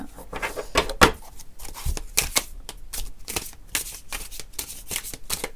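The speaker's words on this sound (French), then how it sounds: "des cartes qui glissent très fort, comme je vous le dis souvent avec ce jeu-ci" Tarot cards shuffled by hand, a steady run of crisp riffling and sliding bursts, close and fairly loud with no talk.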